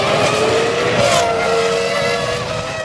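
Formula 1 race cars at a chicane, one after a suspension failure, crash and skid, giving a loud sustained tire squeal and engine whine that fades slightly as the wrecked cars come to rest.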